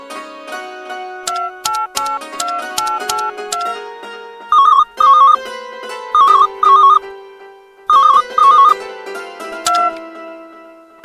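A mobile phone rings while a call to Sonali goes through, playing a loud, clean melodic ringtone of repeated electronic tones, with bursts of beeping figures repeating over several seconds and nothing else heard.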